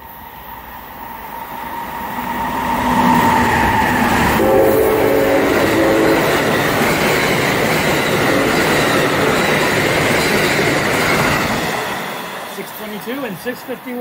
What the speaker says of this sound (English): Here comes a double-header Amtrak to D.C.